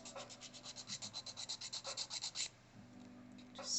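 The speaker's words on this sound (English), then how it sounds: "we are on the last legs of the hand filing." Hand filing of acrylic nails with a nail file: quick rhythmic rasping strokes, close and fairly quiet, about twenty in a steady run before a brief pause and another short burst, with no talking.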